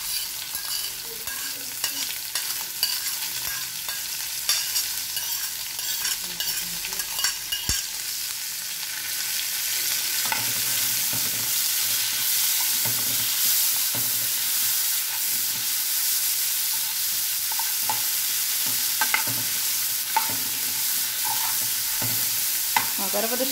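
Chopped onion browns in a pan alongside already fried sausage, a soft sizzle with scattered clicks and scrapes from stirring that grows into a fuller, steady frying hiss about halfway through.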